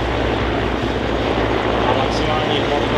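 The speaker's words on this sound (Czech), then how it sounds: "Maximální rychlost tohoto vrtulníku je okolo 250 km, maximální vzletová hmotnost je 13 tun" Mi-17 military helicopter flying at an air show in Hradec Králové, giving a loud, steady, broadband rotor and turbine roar throughout with no pauses.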